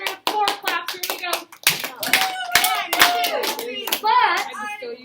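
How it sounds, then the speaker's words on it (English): A class of children clapping in unison, four sharp rhythmic claps, close and loud, with children's voices chattering around and between the claps. "Let's give Andrew 4 claps."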